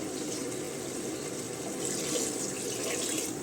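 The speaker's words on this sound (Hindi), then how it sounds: "पानी डाल दिया, 1 कटोरा मैंने पानी डाला है।" A bowl of water poured into a cooking pan, a steady, fairly close splashing gush that runs without a break and with no voices.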